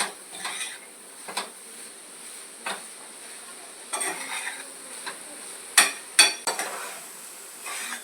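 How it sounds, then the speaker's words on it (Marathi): Fresh grated coconut mixture sautéed in a pan for modak filling, a soft hiss broken by scattered spatula scrapes and a few sharper metallic taps, close and moderately quiet, no voices. "आता त्याच्यामध्ये ओल्या नारळाचा चव टाकते आता हे मिश्रण छान परतून घेऊया"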